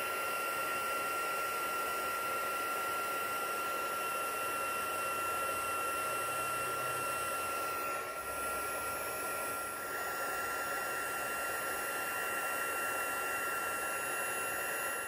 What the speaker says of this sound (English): we need our embossing heat tool. I'll turn it right up to the highest setting, and we will start to melt this powder